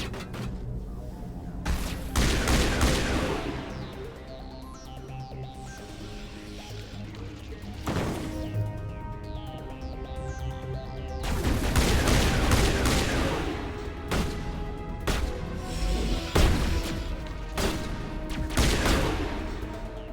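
Bursts of gunfire and heavy impacts in Mass Effect Legendary Edition combat, loud volleys and crashes arriving in clusters over a dense game soundtrack.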